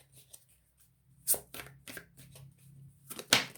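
Tarot cards are shuffled in several short riffling bursts, close and fairly quiet, with pauses and a low hum between them.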